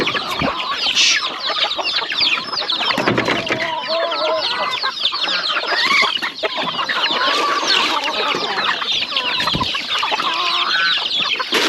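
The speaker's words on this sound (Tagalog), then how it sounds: "Tapos dito naman may broiler chicken tayo." A flock of farm chickens clucks busily and continuously at close range while being fed scattered feed, with dense overlapping calls and a rooster among them, and no talk over the sound.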